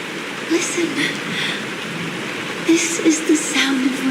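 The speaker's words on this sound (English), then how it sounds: "This is the sound of rain." Rain falls steadily in the video game Honkai Star Rail, a soft continuous hiss with scattered drops, while a voice speaks intermittently over it.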